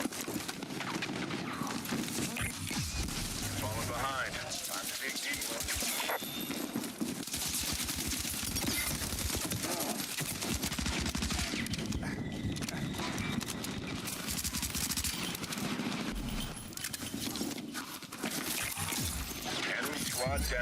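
Battlefield 6 combat during a CBRN-themed Dragon Ops mission gives dense, continuous gunfire and crackling impacts that fill a loud, chaotic mix, with voices shouting over it.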